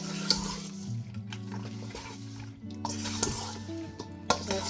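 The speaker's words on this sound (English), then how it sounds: "Let's give it a stir" Jamaican brown stew chicken stirred in a pot, with a spoon scraping and knocking against the metal sides in several close strokes over a low simmering sizzle, with no talking.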